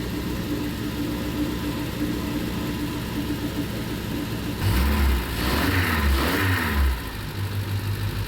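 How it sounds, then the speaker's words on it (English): A Triumph Spitfire engine catches and revs up twice in a low, rising rumble, heard close-up inside a noisy space after a steady background hum, then settling back toward idle. "It revs up nicely."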